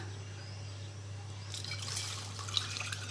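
Strained homemade kombucha tea poured into a container that is too small for it, giving a steady liquid trickle and splash at close range, starting partway through over a constant low hum.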